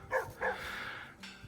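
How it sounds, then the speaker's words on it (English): Guard dogs on a mountain farm bark in two or three short, close yips followed by a drawn-out whining bark, with a faint voice nearby. "The guard dogs have called us."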